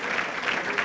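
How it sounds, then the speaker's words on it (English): Audience applause at a mayor's state of the city address held at a Holiday Inn venue, a steady dense wash of clapping across the whole short moment, fairly quiet and unbroken. "But another round of applause for the Holiday Inn"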